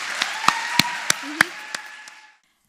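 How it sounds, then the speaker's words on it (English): A few people clap for the Shah family at an Arangetram dance recital, giving about seven sharp, spaced claps over a soft room hum before the sound fades to silence. "Please, a huge round of applause for the Shah family."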